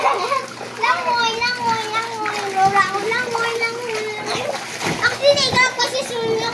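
Children splash and play in water while swimming in front of a house, with continuous splashing under lively kids' chatter and shouts close by.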